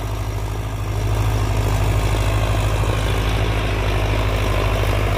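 A Sonalika Tiger 55 DI shuttle gear tractor engine runs steadily, a deep continuous diesel drone that grows slightly louder after the first second and holds close and even throughout.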